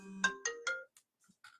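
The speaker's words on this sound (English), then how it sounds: "Sorry, got to turn off my phone." A mobile phone ringtone plays a short rising melody of three tones, then breaks off into a few faint chirps, clear against a quiet room.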